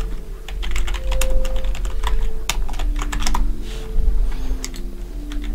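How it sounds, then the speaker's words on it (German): Rapid clicking keystrokes on a computer keyboard, steady and close, with irregular bursts of keys over a low background hum during a World of Warcraft session. "ich hatte eine Tastatur gerade eben kurz gehört"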